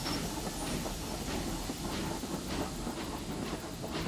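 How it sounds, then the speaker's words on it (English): A passenger train runs on rails in a railway simulation, a dense continuous rumble with faint repeating clicks and a hissing wash, steady and fairly near with no talking. "Now I have to hurry and get this passenger train to Wington Station."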